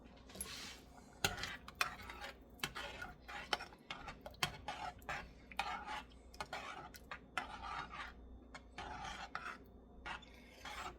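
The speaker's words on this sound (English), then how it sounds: "now I'm going to give it a little stir again." A spoon scrapes and rasps against a pot while stirring one-pot beef bolognese, a steady run of close scraping strokes with occasional clinks.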